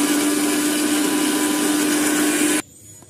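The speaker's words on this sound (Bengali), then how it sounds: "এদিকে ভাবলাম যে মিক্সিতে মশলাটা করে নিই" An electric mixer grinder whirs loudly and steadily as it grinds spices, then cuts off abruptly near the end, leaving a quiet room.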